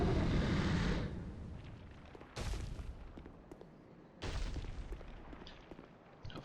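The Ancient Dragon's flying fire attack in a video game, heard as three roaring, whooshing blasts of flame, each loud burst fading into a rumbling tail.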